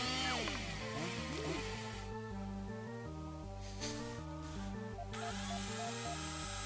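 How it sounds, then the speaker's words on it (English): A chainsaw cuts through zombies in the video game Metal Dead, with a loud buzzing motor over a heavy rhythmic metal soundtrack that changes pitch as it bites. "I'm using a chainsaw, so quietness is not really part of the program here"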